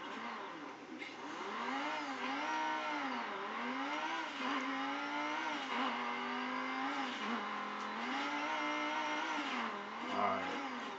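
A video game car in Midnight Club Los Angeles drifts through a wide turn, its engine rising and falling in a continuous whining rev, with tire squeal and engine drone holding steady throughout.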